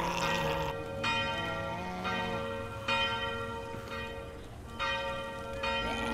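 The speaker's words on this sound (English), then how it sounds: "Guys always know when their bell rings, that just means enemies are gonna spawn." In the horror video game Them & Us, a deep church-like bell tolls repeatedly to signal an enemy spawn, each strike ringing out with long resonant decay over low ambient drone, loud and steady.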